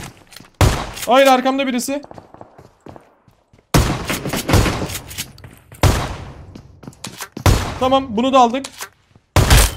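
Shotgun blasts in PUBG Mobile fire in several loud, sharp bursts spread across the clip, and someone talks excitedly between the shots.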